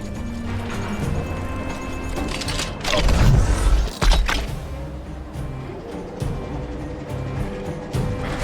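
Mechanical creaking, clanking and ratcheting as the robot Pascal's shell is swapped in Honkai: Star Rail, a steady whirring machine bed with a louder crash-like clatter in the middle, no talking.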